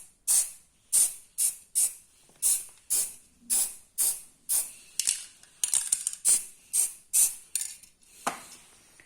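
Spray can coating a stock Royal Enfield Himalayan 411 motorcycle exhaust, about a dozen short hissing bursts in an even rhythm with brief pauses, close and clear, no talk.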